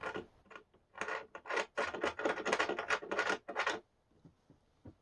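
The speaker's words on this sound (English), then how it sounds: "They screw in and out like they should." Screws being turned in and out of the threads holding the wing section to the fuselage of a large Avios King Twin 1700 RC airplane. Close, dry rasping scrapes repeat in quick bursts, then stop.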